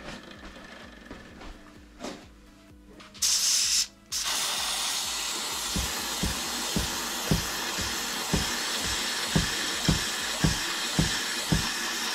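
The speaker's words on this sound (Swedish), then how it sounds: "Om du undrar så var det startgas. Startgas blir jävligt kallt när man sprayar på under lång tid." Starting fluid sprayed onto the engine of a Yamaha Aerox scooter: a steady close hiss through most of the span with a short sharper burst, then a rhythmic ticking that repeats at even intervals.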